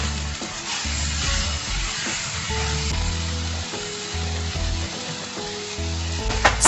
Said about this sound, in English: Fry at medium flame for 5 minutes.